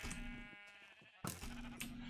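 Sheep bleat in a Minecraft-style one-chunk survival game, two drawn-out wavering baas with a short click between them, clear and close with no talking.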